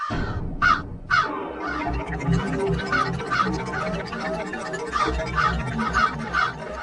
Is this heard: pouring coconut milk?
no